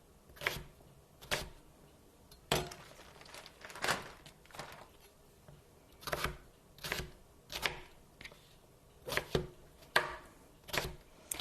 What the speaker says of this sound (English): we're going to cut our sweet potato in chunks.